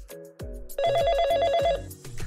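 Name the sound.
telephone ringing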